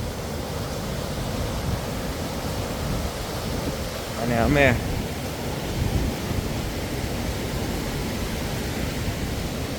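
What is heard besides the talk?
water flowing beside the track at Blue Spring, New Zealand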